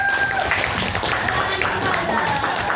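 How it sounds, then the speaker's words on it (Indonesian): University students in a classroom lecture clap together, a busy layer of hand claps at a moderate, fairly even level with voices mixed in among the clapping. "tepuk tangan untuk kita semua"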